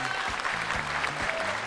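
Studio audience applause on an Uzbek television game show, a dense, steady clapping that fills the whole short moment at even loudness.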